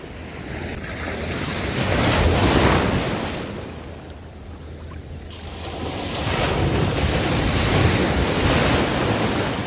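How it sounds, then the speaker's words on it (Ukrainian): Sea waves break on the shore at Odesa on a foggy day, surging in two long washes that swell and fade, with wind buffeting the microphone and no voices. "Все для вас для вас ці хвилі."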